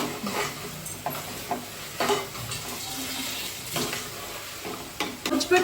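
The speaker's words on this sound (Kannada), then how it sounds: "ಇಡು ಸ್ವಲ್ಪ ಹೊತ್ತು ಚೆನ್ನಾಗಿ ಫ್ರೈ ಆಗಲಿ" Tomato bath ingredients fry in a pan with a continuous sizzle, broken by repeated scraping stirs of a spoon against the pan, close and fairly loud with no talking.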